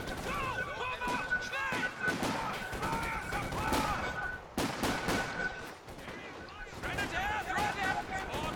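Small arms gunfire crackles through a Company of Heroes 2 battle, sharp repeated shots mixed with game voices calling out orders over dense, continuous combat noise.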